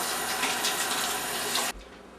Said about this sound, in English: Now we get to go through that exact same process one more time to give it a good thorough washing.